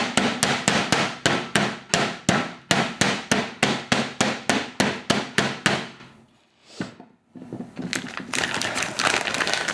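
A meat hammer pounds schnitzel flat on a board in a fast, steady run of about twenty sharp, close thuds, then a brief pause and a softer scraping rustle.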